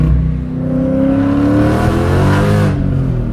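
A supercharged Dodge Challenger with 46,000 boosted miles, running 0W-40 oil, revs up from inside the car, its engine note climbing loudly with a whirring supercharger whine before easing off.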